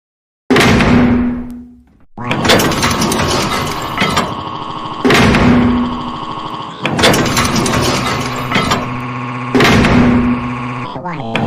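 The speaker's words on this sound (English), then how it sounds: "enough slamming doors already" Doors slammed in an animated cartoon compilation, three loud hard bangs each ringing into a sustained rumble, spaced a few seconds apart, close and forceful.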